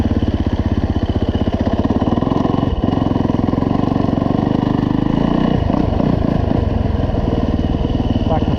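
A Yamaha dirt bike rides through snow in second gear, its engine a loud, continuous close-up drone with a fast, even pulse that holds steady for the whole stretch, swelling slightly near the end.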